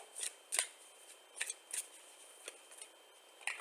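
Playing cards shuffled for a card reading: a series of soft, crisp riffling bursts at uneven intervals, close and quiet, with no talking.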